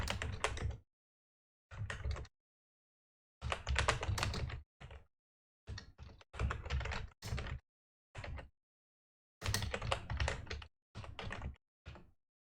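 Bursts of computer keyboard typing as a cheat code is entered into ZZT, short clusters of quick key clicks separated by silent gaps, close and moderately quiet.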